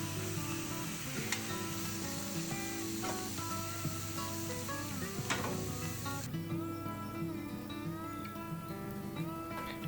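Steak sizzling steadily on a hot griddle cooked over temperature zones for a shredded-steak cheesesteak, a continuous loud crackle joined by scraping and clinking utensil sounds and tonal background noise.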